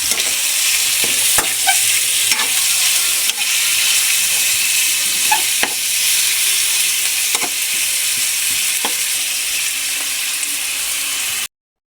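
Ground pork fries in a pan with a loud, continuous hissing sizzle, broken by occasional scraping knocks of a stirring utensil, close up and without talk before cutting off abruptly.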